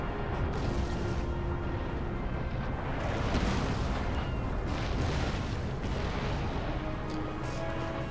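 Warship cannons firing during a naval battle in Empire Total War, a dense continuous roar of booming broadside blasts and rumbling explosions, loud and sustained throughout.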